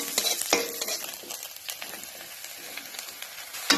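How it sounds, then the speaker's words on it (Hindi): Mustard seeds, chili and onion fry in hot oil with a steady close sizzle, broken by sharp spattering pops and the scrape of stirring, briefly louder at the start and again at the end. "हमने यहाँ पे पहले राई दिया है, सरसों का जो सीड होता है वो दिया है, फिर हमने मिर्ची दिया है, फिर प्याज दिया है ऑयल में।"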